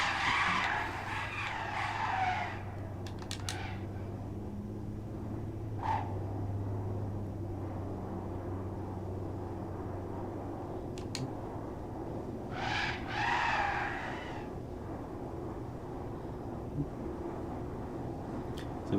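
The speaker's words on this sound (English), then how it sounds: "Oh no, the car spun out," A race car skids and spins out in Assetto Corsa, tires squealing in repeated screeching bursts over a steady engine drone.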